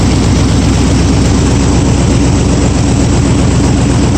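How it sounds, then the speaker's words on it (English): A loud, steady engine of a 1937 Ford rat rod truck rumbles continuously at close range, a low idling drone with no clattering or banging and no voices over it. "Motor sounds pretty good."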